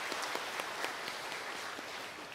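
Church congregation applauding during a Sunday worship service to welcome a newly registered couple, a steady wash of many hands clapping throughout, fairly even in level and no talk over it.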